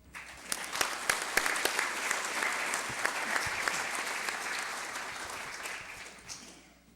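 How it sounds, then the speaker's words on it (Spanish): An audience at a mining lecture applauds to welcome the speaker, a dense, even wash of clapping heard from a little distance that swells and then gradually fades out. "Lo cual pido recibirlo con un gran aplauso."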